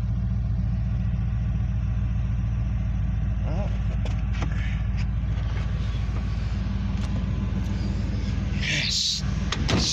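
A Ford engine idles with a steady low rumble after starting, accompanied by a few clunks like a door or panel being moved and handled nearby toward the end.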